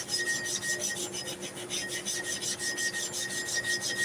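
A Lister large-animal clipper blade plate is rubbed back and forth across grit in quick, even rasping strokes, about three per second, close by and with no talking.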